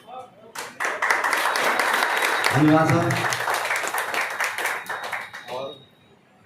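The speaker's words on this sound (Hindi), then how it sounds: "तो एक बार मैं चाहूँगा सर के लिए जोरदार तालियां बजाएंगे" Audience clapping at an honour ceremony for an additional director in Chhapra, a sustained wash of hand claps that swells and then fades, with someone speaking briefly over the applause.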